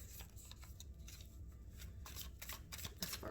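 Antique Anatomy Tarot cards are shuffled close up in quick, soft riffling bursts of papery flicks, fairly quiet, with no speech.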